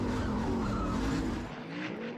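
A drift race car with an engine misfire, pulled briefly on the handbrake, roars loud and close with a steady engine drone and tire skid, easing slightly near the end.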